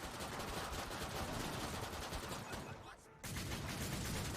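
Rapid 9mm gunfire from a zombie co-op video game, sustained and dense across the clip, with a brief dip before the shooting resumes loudly.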